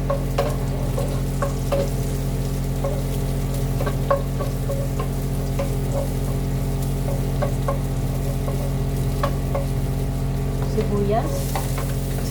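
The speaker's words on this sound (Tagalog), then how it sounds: "igigisa ko na yung aking bawang sibuyas kamatis" Garlic, onion and tomato sizzle steadily in a hot pan with oil, a continuous close frying hiss broken by frequent small clinks and scrapes of a stirring utensil, with no talking.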